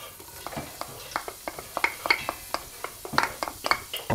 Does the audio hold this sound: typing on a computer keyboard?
no